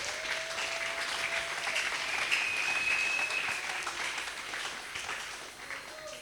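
A church congregation claps and applauds continuously through a worship service, a dense, steady wash of hands that eases slightly toward the end.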